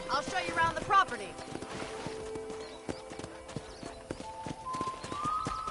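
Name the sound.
horse hooves in video game Red Dead Redemption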